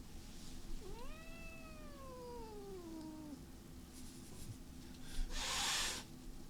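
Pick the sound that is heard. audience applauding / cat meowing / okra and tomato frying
cat meowing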